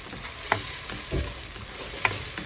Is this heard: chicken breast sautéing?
yes